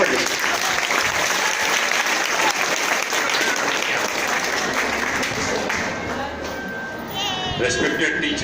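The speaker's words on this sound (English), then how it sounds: "Clap for this." Audience at a school event clapping steadily, a dense unbroken wash of applause from many hands that keeps going throughout and thins slightly near the end.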